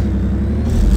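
A deep, steady truck engine drone at moderate revs in the video game Spintires, low and rumbling, close up with no voices.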